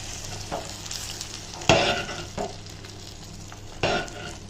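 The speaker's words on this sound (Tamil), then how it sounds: "நெய் போட்டு நல்லா இப்படி கலரி விட்டுக்கலாம்" Sambar rice with ghee is stirred in a pot, with a soft, sticky, wet churning and several louder scraping strokes of the spoon. The stirring is close by and no one speaks.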